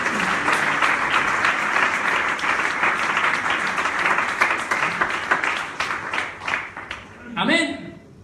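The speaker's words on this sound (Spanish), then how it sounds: "No sé si usted quiere darle un aplauso al Señor Jesús." Church congregation applauding during a sermon, a broad, sustained patter of many hands clapping that gradually tapers off, ending as a voice begins speaking.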